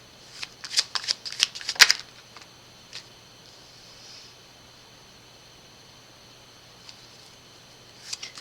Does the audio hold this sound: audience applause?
no